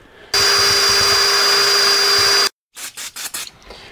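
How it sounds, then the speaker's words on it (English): A die grinder fitted with a wire brush whirs loudly and steadily for about two seconds while cleaning a Caterpillar D4 transmission case cover part, then stops abruptly, followed by a few short, softer bursts. "So I'll just use my die grinder here, the wire brush."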